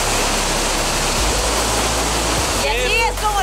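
A powerful waterfall at the end of a hike roars as a loud, steady rushing wash of water, with a voice breaking in briefly near the end.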